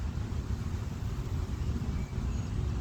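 Steady low rumble of road traffic drifts through an outdoor spot, a continuous wash of passing cars and heavier vehicles with no single standout event, moderately distant and unbroken.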